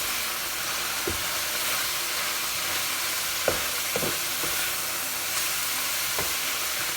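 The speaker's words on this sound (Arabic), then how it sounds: "هنا بدا يتحمص الدجاج مع البصل والفلفل" Chicken pieces frying with onion and peppers in a saj pan make a steady loud sizzle with repeated stirring scrapes and clatters throughout.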